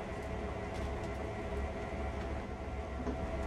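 A CSX Heavy Haul freight train in the Train Sim World game, running the Sand Patch to Yoder route, gives a steady, dense rumble that holds at an even level without a break and with no voices.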